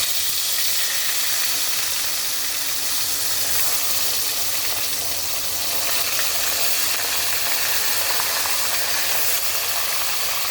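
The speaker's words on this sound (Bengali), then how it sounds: "এখন আমি মাছগুলো ভেজে নেবো" Fish pieces frying in hot oil in a wok for a nola fish curry with potatoes, a loud, dense, unbroken sizzle and crackle that holds steady throughout with no voices.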